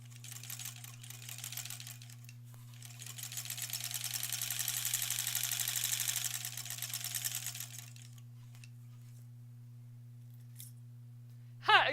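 A sewing machine runs steadily as long rows of quilt blocks for an Aurifil quilt are stitched, whirring close and continuous for several seconds before stopping, over a low steady hum, with a brief click at the end.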